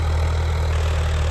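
A new Swaraj 855 tractor engine idles with a steady, deep low rumble, even and unbroken, close by and fairly loud with no voices.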